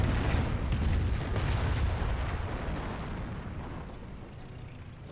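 Rocket barrage in Company of Heroes, a dense rumbling run of explosions and impacts, loud at first and slowly fading over several seconds, with no talking.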